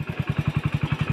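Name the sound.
motorcycle engine starting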